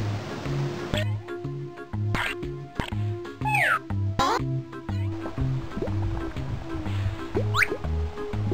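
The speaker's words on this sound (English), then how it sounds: "Our cat." A cartoon cat in the Pajama Sam adventure game lets out a few rising and falling meows over looping, plinking, drip-like game music with a steady rhythmic bass.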